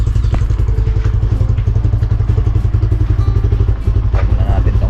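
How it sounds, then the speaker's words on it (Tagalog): A motorcycle engine idling while warming up in the early morning, with a loud, steady, rapid thumping putter close by and a voice speaking over it. "Pinapainit ko lang siya para hindi po masisira po yung motor natin"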